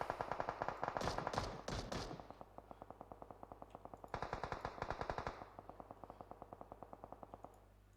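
Rapid automatic gunfire in PUBG Mobile during an esports match, long rattling bursts of repeated shots with a loud cluster early on, then sustained steady volleys continuing to the end.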